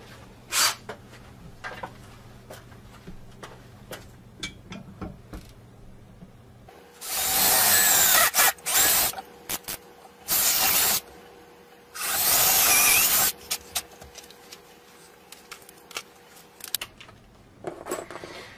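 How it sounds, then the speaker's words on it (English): A power drill whirs in three bursts of a second or two each, drilling pilot holes for lag bolts to mount a wall pull-up bar, with quiet pauses and a few light knocks between them. "So let's drill our pilot holes."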